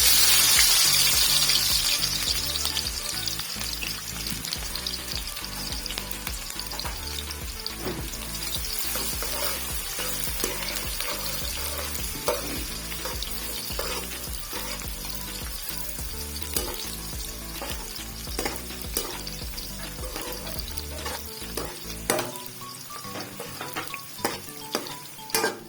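Sliced onions for chicken biryani sizzle and crackle in hot oil, a close, continuous hiss with stirring scrapes and pan clinks running throughout, no voices.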